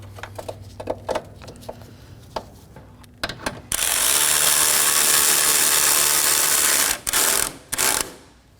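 A ratchet works a bolt on the coolant reservoir of a 2011 or later Dodge Durango 5.7L V8: quick clicking strokes, then a long loud continuous mechanical whir, then a few more bursts and clicks, close by.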